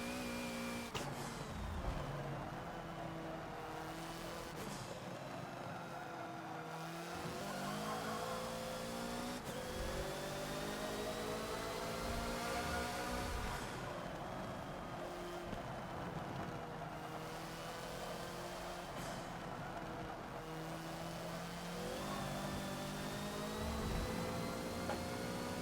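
Hoonigan Ford Focus racing around a short Prague track in a Forza video game, its engine droning and revving steadily through gear changes for the whole stretch, loud and continuous with no talk.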